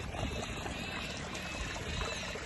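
Water pours steadily from a running pump motor into an onion field, a continuous broadband gushing flow that stays even and close throughout.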